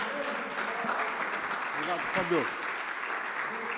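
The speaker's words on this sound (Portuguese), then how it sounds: "as palmas agradecem o nome do Senhor Jesus" A church congregation at a family service claps steadily in a continuous wash of applause while a voice speaks over it.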